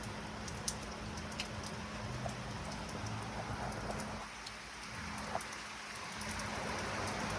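Rain falls steadily outdoors in the Dominican Republic beside an outdoor kitchen, a soft even hiss with scattered drip ticks, heard at a distance and fairly quiet.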